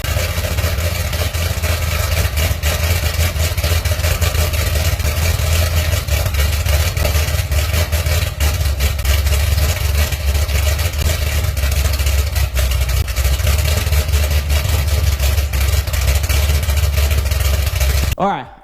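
A Corvette engine with an aftermarket Speed Engineer exhaust rumbles steadily with a deep, throaty exhaust note, idling and revving continuously up close before cutting off at the end.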